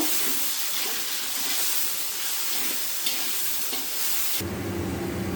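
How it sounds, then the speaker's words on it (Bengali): Potatoes fry in oil with salt and turmeric for a rice dish, giving a steady close sizzle and crackle throughout. The hiss shifts in tone near the end as the potatoes are stirred. "নুন দেব, হলুদ দেব, আলুটা লাল লাল করে ভাজবো।"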